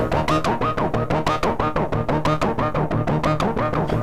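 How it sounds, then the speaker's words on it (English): Synthesizer run through tape with heavy distortion, a loud, gritty pulsing pattern repeating at a quick, steady rhythm with warbling, unstable tape character throughout. "Like I said, lots of distortion there."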